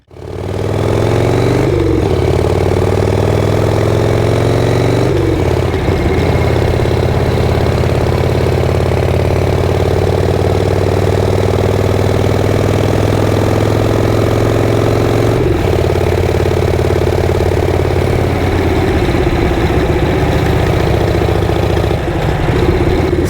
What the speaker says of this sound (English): My bike's warming up a little bit.